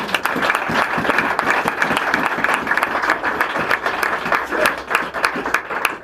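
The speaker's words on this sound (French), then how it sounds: "Acclame très fort pour Dieu." A church congregation claps and cheers loudly in praise of God, a dense and continuous roar of applause from many hands that holds steady throughout with no talking over it.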